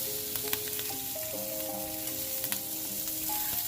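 Ribbonfish pieces pan-fry in a little oil over medium heat, giving a steady, close sizzle throughout, with faint tonal background sounds.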